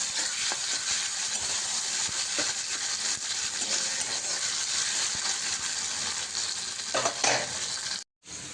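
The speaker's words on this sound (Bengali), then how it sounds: "একটু হালকা করে লালচে করে ভেজে নেব" Salted, turmeric-coated prawns frying in a pan produce a loud, steady hissing sizzle close by, with a few faint stirring clicks and a brief cut to silence near the end, no talking.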